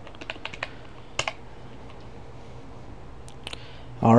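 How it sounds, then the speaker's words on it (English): A password being typed on a computer keyboard, heard as a few scattered close key taps with pauses between them, ending in a louder burst of sound. "Type your password."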